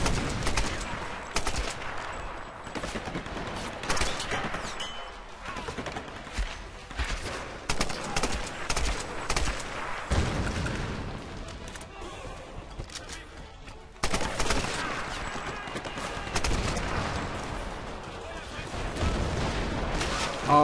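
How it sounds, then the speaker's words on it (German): Explosions and rapid gunfire crackle almost nonstop through a Tomb Raider (2013) combat scene, dense and loud, with brief lulls before the barrage resumes. "Hört auf hier mit Böllern zu werfen"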